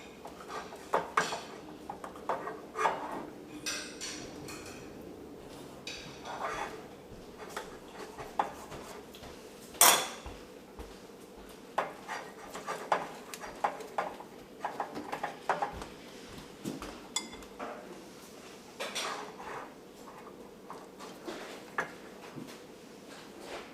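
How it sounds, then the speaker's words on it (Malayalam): A knife cuts a boiled egg into small pieces in a kitchen, producing irregular light taps and clinks against a board or dish, moderately close with a quiet room behind. "ഈ മുട്ട നന്നായിട്ട് ചൂടാറി കഴിയുമ്പോൾ ഇത് കുറച്ച് ചെറിയ പീസായിട്ട് നമുക്ക് കട്ട് ചെയ്തെടുക്കണം"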